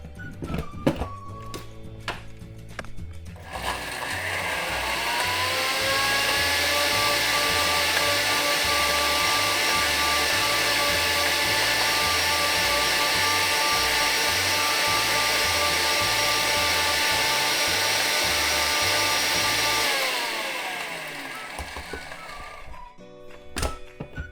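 A spice grinder whirs loudly and steadily for about fifteen seconds, pulverising chai masala spices, after a few thunks and clatters at the start and before it winds down to handling knocks at the end.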